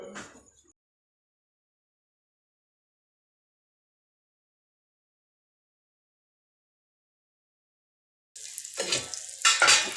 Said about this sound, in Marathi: तेलामध्ये आपल्याला फ्राय करून घ्यायचं आहे